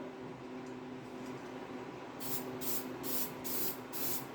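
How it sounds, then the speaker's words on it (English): Rust-Oleum spray paint hissing onto the back of a steel power steering pump from a 1968 Pontiac GTO 400, heard as several short spray bursts over a steady background hum. "I'm gonna hit the back side of this, at least this back side of this one anyway, with a Rust-Oleum."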